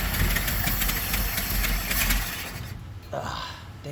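An old GMC truck's big six engine, not run for eight years, idles roughly with a low, uneven rumble for a few seconds before dropping off, with speech-like noise mixed in.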